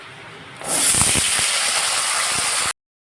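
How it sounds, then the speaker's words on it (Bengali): Cut potato and green banana pieces hit hot oil with a whole-cumin tempering after fish has been fried, starting a close, steady hiss with a few light clinks, then cutting off abruptly. "কেটে নেওয়া আলু আর কলাটা দিয়ে দিচ্ছি তেলে"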